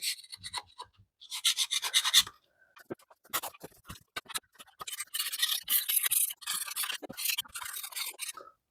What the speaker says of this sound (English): let's get all this old stuff scraped off here